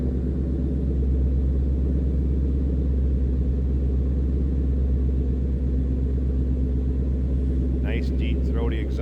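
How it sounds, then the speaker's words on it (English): A throaty exhaust from a supercharged 2013 Ford Mustang GT V8 burbles steadily at idle, deep and close, with a voice briefly heard at the very end. "Nice deep throaty exhaust note, and when you get under throttle, it lets you hear it"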